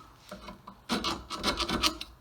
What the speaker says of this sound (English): taking a round file, going around the inside, making sure that there's no burrs